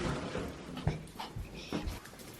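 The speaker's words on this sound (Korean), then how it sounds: "껌먹을 강아지." A small dog at home makes soft whimpering, panting and breathy sounds, quiet and close, in short irregular bursts with brief pauses between.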